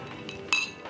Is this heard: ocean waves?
no